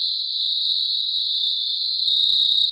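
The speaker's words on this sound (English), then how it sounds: "that is a band of like cricket chirps" Dense, continuous high-pitched cricket chirping fills the air, steady and unbroken, with faint low rumbling toward the end.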